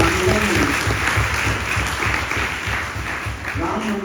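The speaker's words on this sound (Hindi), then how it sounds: "मैं चाहूंगा एक बार जोरदार ताली" Loud, sustained audience applause at a Hindi-language gathering honoring Swami Chinmayanand, dense clapping filling the whole few seconds with a steady low rumble beneath.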